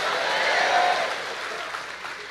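A church congregation claps for the Lord, a dense wash of applause that swells and then fades slightly, with voices mixed in under the clapping.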